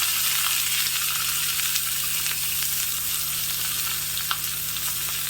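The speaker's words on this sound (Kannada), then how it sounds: "ಒಂದು ಕಾಲು ಕಪ್ಪಾಗುವಷ್ಟು ಕ್ಯಾಪ್ಸಿಕಮ್ನ ಹೆಚ್ಚಿಬಿಟ್ಟು ಹಾಕ್ತಾ ಇದ್ದೀನಿ" Loud, steady sizzling of chopped capsicum frying in hot oil for tempering, a continuous crackling hiss with occasional sharper pops and no talking.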